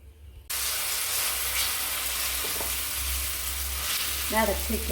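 Egg omelette fries in oil on a griddle stone, a steady close sizzle and hiss that starts abruptly after a brief quiet moment and continues evenly, with a faint scrape near the end.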